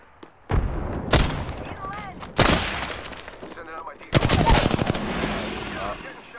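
Heavy gunfire in a video game, with loud bursts of rapid shots and single cracks at several points and a long sustained volley near the end, mixed with voice chatter.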